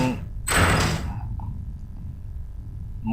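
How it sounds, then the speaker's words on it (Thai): Door shutting in the horror game Ao Oni, a single loud sliding thud early on that fades into quiet room tone. "เราปิดประตู"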